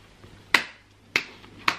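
Three sharp hand claps at a steady, unhurried spacing, each a crisp close-up crack with a short decay, heard alone in a quiet room.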